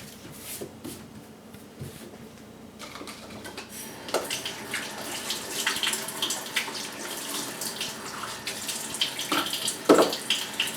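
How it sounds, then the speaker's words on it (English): A tap is turned on for handwashing at a sink, starting a few seconds in after some quiet shuffling, then running as a steady close splash of water until the end. "I'm just going to wash my hands before we start."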